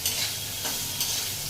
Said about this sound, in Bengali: এখানে চলছে উচ্ছে ভাজা